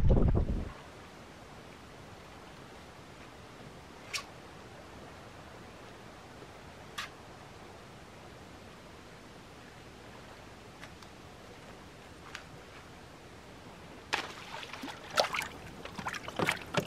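A canoe crossing a lake in wind: a low, steady wind rush with a few isolated clicks, then a cluster of brief splashing paddle strokes near the end.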